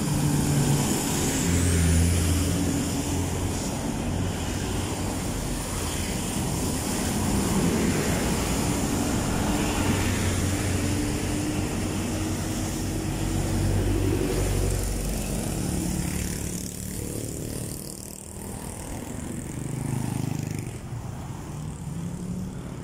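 Heavy road traffic near SM City Sto. Tomas in Batangas, a continuous roar of cars and trucks rolling past with engine rumble and hiss swelling and fading, no talking.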